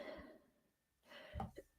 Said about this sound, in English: apologize for my coughing.